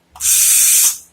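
A small electric motor from a toy car whirs in one short, loud, hissing burst lasting under a second, spinning up quickly and then dying away.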